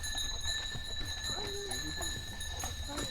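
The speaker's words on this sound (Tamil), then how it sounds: "குதிரையே ரொம்ப கஷ்டப்பட்டு ஏறிக்கிட்டு இருக்கு." Horse hooves clopping steadily as the animal strains up a steep mountain trail toward Morskie Oko Lake in Poland, the footfalls fairly close and continuous under a steady hum of background noise and occasional voices.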